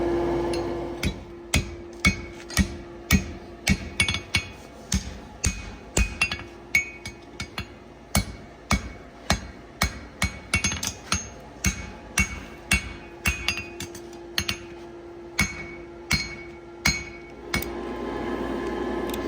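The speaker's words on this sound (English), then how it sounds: "Got a little bit of heat in the shoe, definitely enough to punch my hole." A hammer strikes a hot horseshoe forged in coke, punching a nail hole: a long run of sharp metallic clinks in a steady rhythm, loud and close, with a brief pause midway.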